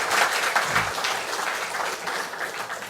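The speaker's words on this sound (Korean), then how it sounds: "뜨거운 박수로 한번." A church congregation breaks into warm applause for a newly married couple in their sixties, a steady patter of many clapping hands filling the hall with no talk over it.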